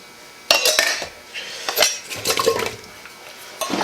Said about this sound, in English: First we're gonna do is dump in our green beans